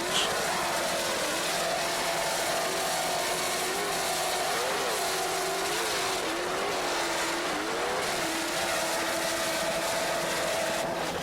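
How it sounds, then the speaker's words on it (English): Zool racing engines of an offshore powerboat in a C-Class race off Fort Lauderdale roar continuously, a loud sustained drone with rising and falling pitch as the throttle shifts, no voices over it. "Just listen to those Zool racing engines."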